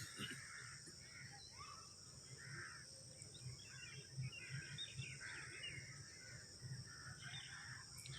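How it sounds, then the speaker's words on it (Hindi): Several sparrows and mynas call and chatter in the distance, a layered mix of short chirps and cries, with a steady high hiss of insects underneath. "चिड़ियों, मैनाओं की आवाजें हैं।"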